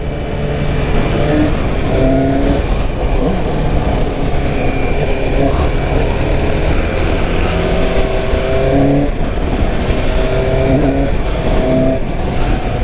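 A Suzuki GSX-S750 motorcycle accelerating hard through traffic on a São Paulo street, its engine roaring loud and steady throughout with a continuous rising drone and no pauses.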